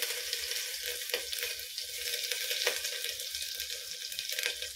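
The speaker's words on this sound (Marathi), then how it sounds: "आता आपण त्याच्यामध्ये ना आलं लसूण पेस्ट घालायची आहे." Ginger garlic paste sizzles and fries in hot oil, a steady close crackling hiss with a few small pops and stirring scrapes throughout.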